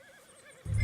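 A horse whinnies in the video game Red Dead Redemption 2, a wavering neigh that swells into a loud, close snort and rumble at the end, heard alone without talk.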